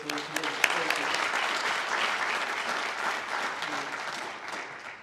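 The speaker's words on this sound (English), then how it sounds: "So a round of applause again for those on the committee." An audience at a career hall of fame reveal ceremony breaks into sustained applause for the organizing committee, many hands clapping steadily at close range, with a few early sharp claps before it swells, then fades near the end.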